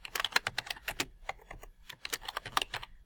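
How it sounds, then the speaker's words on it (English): Close, quick clatter of fingers typing on a computer keyboard, a dense run of crisp key clicks with brief pauses, heard alone. "So I'm going to type that in"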